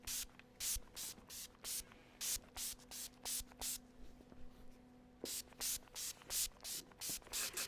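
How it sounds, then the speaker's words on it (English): Urban Decay Chill setting spray misted over a made-up face in repeated short spritzes, a rapid run of soft hissing bursts, a pause, then another quick series, close and fairly quiet. "We're gonna give her a good spritz of this stuff."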